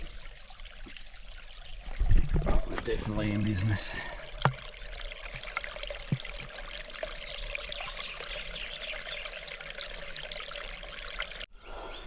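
Water trickles and pours from a small stream beside a hiking trail in the Australian Alps, a steady close wash with a louder splashing burst early on, while a person speaks briefly over it.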